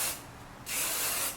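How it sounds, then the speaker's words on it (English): Hair spray is sprayed onto curly hair in two close, loud hissing bursts, a short one then a longer one, with a brief gap between. "I will spray there and go like this so that the hair is kind of out of my face"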